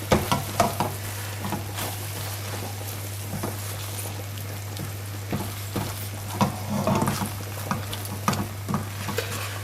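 Tomato ketchup being stirred into cottage pie mince frying in a pan, a steady soft sizzle with wet scraping and clicking stir strokes, louder bursts at the start and again midway, no talking.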